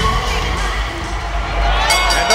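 Loud, continuous roar of a sold-out arena crowd cheering at a WWF wrestling show in Cincinnati, a broad wash of voices with a commentator speaking over it.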